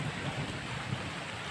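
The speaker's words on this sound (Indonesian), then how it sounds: "Ini di hujan pagi hari." Morning rain pours steadily on a garden hut, a dense, even hiss of falling water with a low rumble beneath and no talk.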